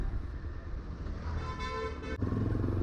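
A Yezdi Adventure 2024 motorcycle engine runs steadily while riding, a continuous loud drone with a brief dip near the end before it pulls on again.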